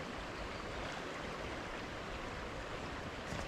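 Water rushing along the River Usk, a steady broadband wash from a fast-flowing stretch of salmon river, close and continuous with no talk over it.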